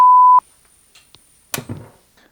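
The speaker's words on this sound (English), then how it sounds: "And it made a very nasty beep." A loud, steady electronic beep sounds for a fraction of a second from a Commodore PC35-III power supply under repair, followed by a few faint clicks and a short burst of rustling handling noise.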